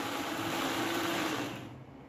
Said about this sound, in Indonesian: Setelah itu langsung kita blender aja.